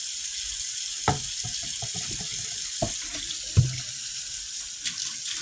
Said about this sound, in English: Turn the hot water on him.